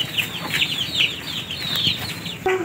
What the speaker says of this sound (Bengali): এটা হচ্ছে কি একটা মুরগির খামার